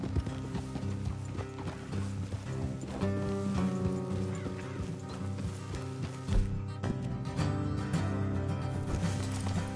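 Horse hooves clip-clop steadily in a video game, several horses moving along a road in a rhythmic gallop under a soft musical score, with no voices.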